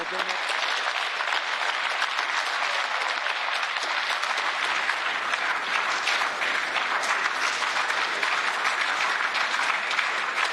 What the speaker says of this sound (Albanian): Eurodeputentët treguan mbështetjen e tyre me një duartrokitje të gjatë në përfundim të fjalimit